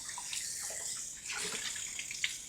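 Steady hiss of water running from a kitchen tap while washing up after breakfast, a continuous close splashing stream with small bubbling variations and no talk.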